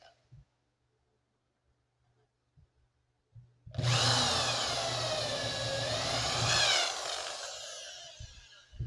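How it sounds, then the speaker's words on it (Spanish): A power drill bores into the side of a plastic housing for a TV impedance-transformer project, starting abruptly and running as one loud, continuous whine with a shifting pitch for about three seconds before cutting off, with a few faint knocks before and after. "vamos a hacer un agujero acá en uno de los laterales"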